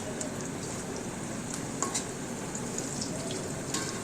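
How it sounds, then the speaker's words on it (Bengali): Garlic and green chilies frying in a pan for jute-leaf greens, giving a steady, close sizzle that runs throughout with faint crackles and a few small pan clinks. "অন্য চুলায় শাক ভাজির জন্য রসুন আর কাঁচামরিচ ভেজে নিচ্ছি"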